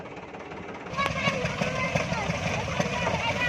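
A tractor-driven peanut thresher runs steadily in a field, a dense mechanical roar and rattle that swells in about a second in and holds loud, with voices talking over it.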